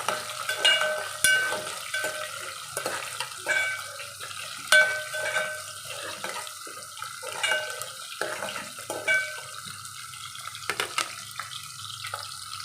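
Chana dal, urad dal and mustard seeds sputter in hot oil for tempering, with irregular sharp pops and crackles spread across a quiet background and no voices.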